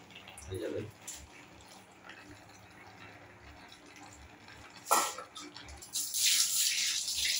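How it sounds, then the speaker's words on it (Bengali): Water is poured into a paste of cumin, mustard and poppy seeds, a short splashy pour with faint trickling nearby, while a person talks quietly. "জিরে, সর্ষে এবং পোস্ত, আর একটু জল দিলেই হয়ে যাবে।"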